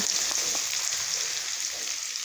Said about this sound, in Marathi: तेल गरम झाले जिरे मोहरी टाकून घेऊ